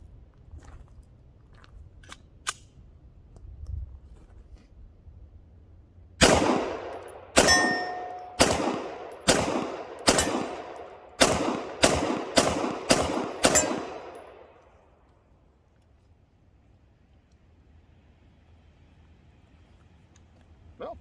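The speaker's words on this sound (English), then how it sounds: "I'm starting out with some CCI Blazers, just some plain old ball ammo to run the first few shots through it." A Tisas Zigana PX9 Gen 2 pistol fires CCI Blazer ball ammunition: about ten sharp, loud shots in a quick irregular string, each ringing briefly, with quiet outdoor ambience before and after.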